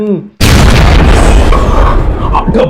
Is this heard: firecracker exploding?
yes